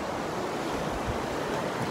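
A mountain river runs past beneath a bridge with a steady broadband rush of water, continuous and fairly loud, with wind buffeting the microphone at times, in a snowy high-pass setting.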